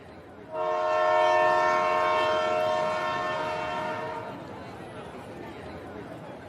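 A train horn blares loudly at a busy railway station for several seconds, a sustained harmonic blast that fades into the murmur of a crowded platform and passenger chatter.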